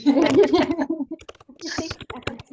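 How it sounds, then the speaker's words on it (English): Rapid clicking of keys on a computer keyboard, close by, first under a person talking and then alone in quick irregular taps. "Someone's typing."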